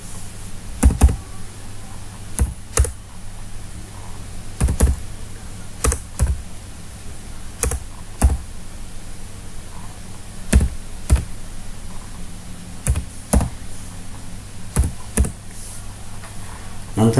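Debit card number typed on a computer keyboard: irregular bursts of crisp key clicks, some quick runs and some single taps, close and moderately loud over a steady low hum.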